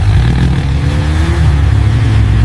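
A motorbike engine revs loud and close, a steady rumbling drone that holds throughout with slight pitch rises, on a village outing.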